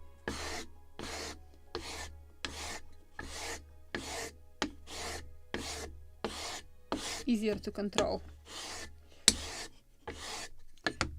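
A sanding block rubs along a wooden spar for a gunboat ship model in steady back-and-forth strokes, about a dozen evenly spaced rasps up close. A voice speaks briefly partway through.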